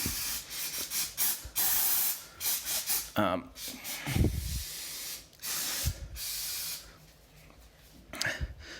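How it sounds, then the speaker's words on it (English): CRC Pro Series brake cleaner hisses from a large aerosol can in close, loud bursts of varying length while brakes are being cleaned, broken by short pauses and a few clunks. "CRC brake clean. This Pro Series stuff is pretty nice. It does a really nice stream, kind of a bigger can."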